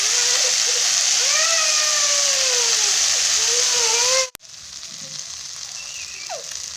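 Potatoes with turmeric sizzle loudly and steadily in hot oil for a fish recipe, close up, with scraping stirring sounds; the frying drops abruptly partway and continues more quietly.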